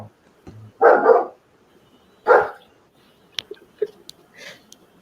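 A pet dog barks twice near the microphone, loud sharp barks about a second apart, followed by fainter small knocks and rustling in a quiet room during an online Teachers' Day celebration.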